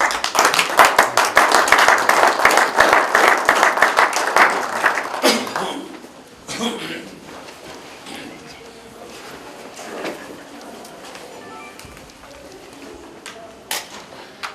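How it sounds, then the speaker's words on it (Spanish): Audience applauding at a university book presentation in Juliaca, a loud burst of clapping for about five seconds that fades into scattered claps and room murmur, with a few late claps near the end. "Lo recibimos con un fuerte voto de aplausos."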